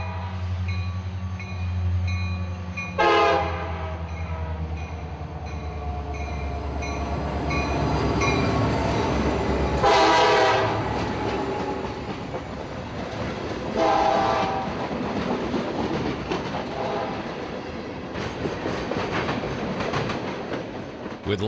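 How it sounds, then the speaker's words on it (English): A freight train of empty cars pulled by two EMD diesel locomotives rumbles past, with deep engine drone, a few loud horn blasts, and wheels clattering steadily over the rails. "Two big EMDs were pulling this string of empties."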